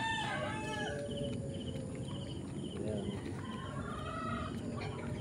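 Backyard chickens clucking and crowing at feeding time in steady rural ambience, their calls rising now and then from a dense, continuous background.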